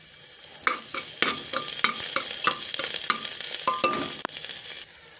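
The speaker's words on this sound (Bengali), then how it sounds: "তো এটা আমি একটু হালকা করে লাল করে ভেজে নেব" Capsicum frying in a pan for chicken stew, with a steady loud sizzle broken by repeated sharp scrapes and clinks of a spatula stirring against the pan, close and without talk.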